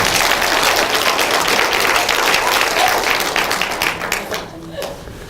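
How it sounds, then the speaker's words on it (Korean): A church congregation applauds to congratulate a father on the birth of his fourth child, a dense, loud, continuous wash of clapping from many hands that thins and fades toward the end. "우리 박수로 축하합시다"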